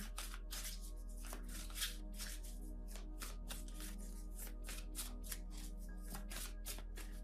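A tarot deck is shuffled in rapid, steady riffling strokes, the cards swishing and slapping in a continuous rhythm over a low background hum, quiet and close, with no voices.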